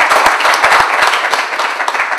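A short burst of crowd applause at a building-trades youth training event, many hands clapping together at a steady, fairly loud level with no talking.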